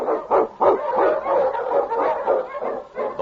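A team of Eskimo huskies pulling a sled in the Yukon barks and yips in quick, overlapping bursts, loud and close, with whining between the barks and no speech.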